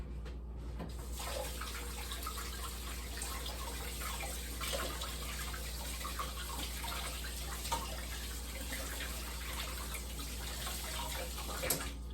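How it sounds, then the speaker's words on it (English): Hands are washed under a running kitchen tap: a steady, close rush of water runs the full length with small splashes and shifts in the flow, and a low constant hum beneath, with no talking. "What I'm gonna go do is wash my hands really quick"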